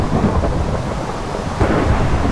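A thunderstorm in Minecraft rumbles loud and steady, a broad rolling roar of thunder with rain underneath and a fresh swell near the end.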